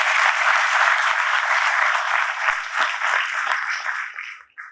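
An audience at a student felicitation ceremony for a coaching class applauds successful students, with sustained, dense clapping from many hands that holds steady for several seconds before thinning and stopping at the end.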